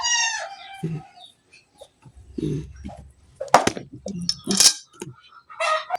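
Chickens clucking and squawking close by in short bursts, with a brief rooster-like call at the start and scattered quick noises between.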